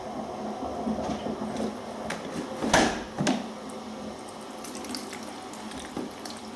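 Velvet fabric being washed by hand in a sink under running tap water, a steady stream with sloshing and a couple of louder splashes and knocks midway.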